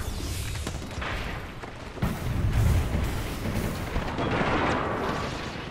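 Gibraltar's ultimate artillery bombardment in the Apex Legends video game lands as a dense, continuous roar of booming blasts. It swells louder after the first couple of seconds, a sustained rumbling barrage that stays up close and loud throughout.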